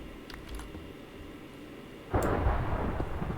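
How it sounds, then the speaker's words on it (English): A loud thunder crack from a Minecraft game storm bursts in about two-thirds through, booming and rumbling over a quiet background hum. "I don't like that thunder sound."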